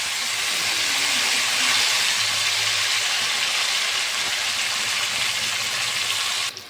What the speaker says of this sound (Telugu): ఇప్పుడు మనం కట్ చేసి పెట్టుకున్న వంకాయ ముక్కలు వేసుకుందాము